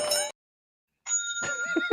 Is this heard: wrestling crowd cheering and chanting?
no